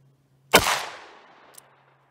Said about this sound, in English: I'm just gonna fire off 5 shots quick like.